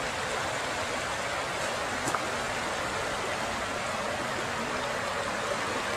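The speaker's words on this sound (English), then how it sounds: "the water is definitely up and it's noisy" Continuous rushing of a stream in a canyon, a steady broadband hiss with no voices, close and even in level.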